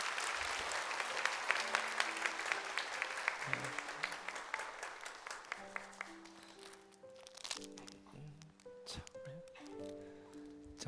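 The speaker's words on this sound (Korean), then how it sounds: "박수 보내주세요." A church congregation applauds during a Sunday service, a steady clatter of clapping that thins out and gives way to sustained piano or organ tones, with a little talk.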